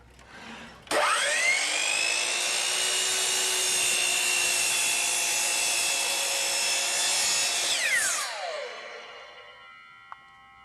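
Hitachi C12RSHEB circular miter saw spinning up with a rising whine, holding a loud steady high-pitched scream through the wood cut for about seven seconds, then winding down with a falling tone.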